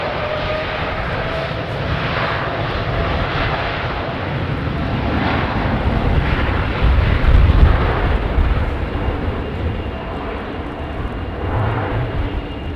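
Airliner jet engines on a runway 09 departure give a steady, loud broadband roar that swells slightly in the middle and then eases. No one speaks.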